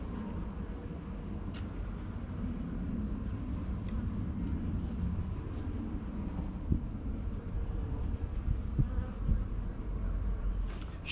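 Honeybees buzzing steadily at close range as a colony is moved, a continuous low drone with a few brief louder passes, and no voices.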